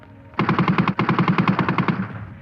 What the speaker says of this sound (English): were mown down by German machine gunners